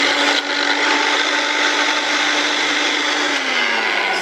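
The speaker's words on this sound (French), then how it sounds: "Et on va encore les mixer un tout petit peu." A kitchen blender whirs steadily, grinding flax seeds with a dense, high buzzing drone that dips slightly in pitch near the end, loud and close.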